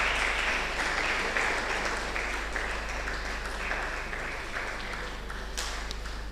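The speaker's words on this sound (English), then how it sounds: "Please a round of applause for her." Applause from an audience at a university event, a steady wash of clapping lasting several seconds over a constant low electrical hum.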